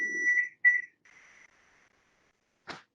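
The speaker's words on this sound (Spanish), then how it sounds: "Ahí pito mi temporizador." A kitchen timer beeps while bread dough bakes: two bright electronic beeps followed by a fading tone, then a single short clatter, all fairly close in a quiet kitchen.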